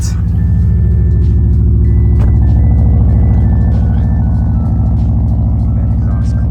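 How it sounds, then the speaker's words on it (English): A Subaru Forester idles in a snowstorm, its exhaust giving off a loud, deep, steady rumble with a thin electronic beep tone over it. "That exhaust clip."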